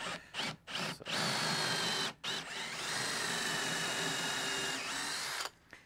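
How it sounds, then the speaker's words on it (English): A Forstner bit drilling partway into a wooden outboard sailboat rudder, a steady close power-drill whine running for several seconds with brief stops and restarts at the start. "I just want to drill about half the way through."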